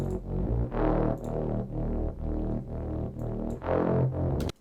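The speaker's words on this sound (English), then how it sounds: "so I've added a mid bass here too that sounds like this." Distorted mid bass synth layer from an electronic track breakdown, loud and sustained, pulsing in rhythmic phrases with brief gaps between hits and no voices.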